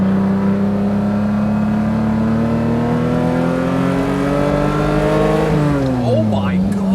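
A Lamborghini LM002 engine drones loudly inside the cabin, a steady tone that slowly climbs in pitch before dropping sharply as the revs fall near the end.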